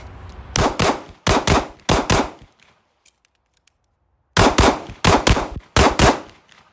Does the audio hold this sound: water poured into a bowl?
no